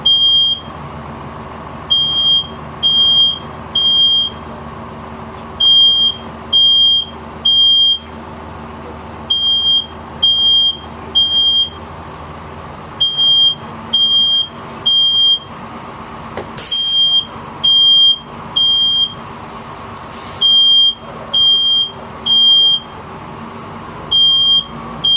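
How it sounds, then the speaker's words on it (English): A smoke alarm sounds in repeated loud, shrill beeping bursts, a steady pulsing pattern of high-pitched tones over faint background noise. "How quick you heard that smoke alarm?"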